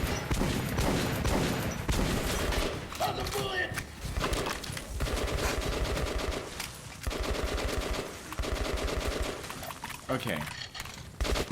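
Rapid bursts of video game gunfire in Metro 2033 Redux, loud and repeated over about eleven seconds, mixed with thuds and a voice speaking briefly.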